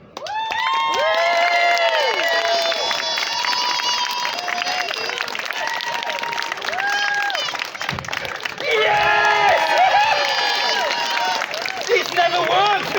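A live comedy show audience in Inverness claps and cheers, with shouting and lively crowd voices over scattered applause throughout, the noise swelling again toward the end.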